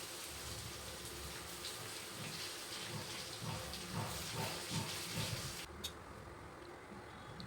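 Green chillies and curry leaves fry in hot tempering oil for a raw banana stir-fry, giving a continuous loud hiss and sputter that cuts off sharply near the end.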